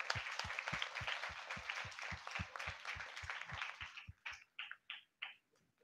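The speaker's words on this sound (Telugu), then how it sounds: "Nenu Maria tallini poojistunnanu anna vaallu gattiki chappatlu kottandi" A church congregation claps in a steady, even rhythm of about fifteen beats, then the clapping thins out into a few scattered, separate claps before fading.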